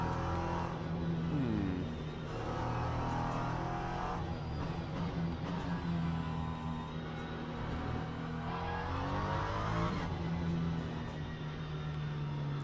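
Race car engine from the sim racing game Le Mans Ultimate, a steady loud drone with rising and falling revs as cars accelerate and pass, continuous throughout with no talk.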